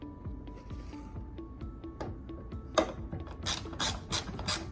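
A ratchet clicks at a 10 millimeter bolt on the lower fender edge of a Chevrolet Colorado, with steady mechanical ticking and a few louder metallic clanks near the end, close up and with no talking.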